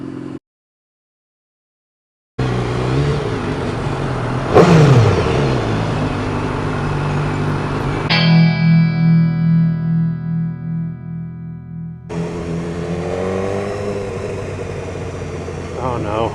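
A BMW S1000R motorcycle revs hard and accelerates, a rising engine whine that peaks then winds through gear changes with pulsing throttle, loud and close, broken by silent gaps; a voice is heard briefly.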